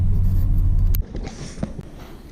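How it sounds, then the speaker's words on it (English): A car rolls along a busy highway in heavy afternoon traffic, with a loud low engine and road rumble that suddenly drops to a quieter, lighter road hum midway. "let me go ahead and get down this highway, man. It's heavy traffic at 4 o'clock"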